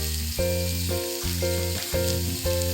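Ivy gourd (tondli) sizzles steadily in a pan while being stirred, with scrapes recurring roughly every half second over continuous frying hiss, close and loud, no talking.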